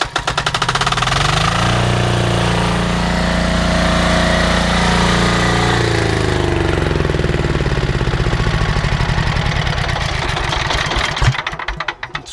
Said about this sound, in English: it's the easiest starting diesel I've ever come across